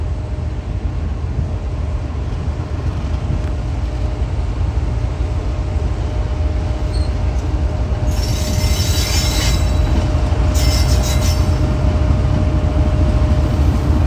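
Karachi Express pulling out of platform 2 on its run to Lahore, a steady rolling rumble with bursts of high wheel squeal near the end, close and loud with no talk.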